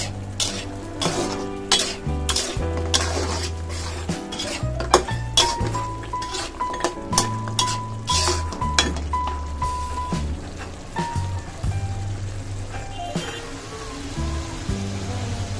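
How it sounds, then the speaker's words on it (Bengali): Prawns and pumpkin bori stir-fried in a pan, with repeated metal spatula scrapes and clinks against the pan in an uneven rhythm over a low sizzle, close and fairly loud, with a faint tone briefly running underneath. "কুমড়া বড়ি ডালে দিয়ে একটু কষাই নিব"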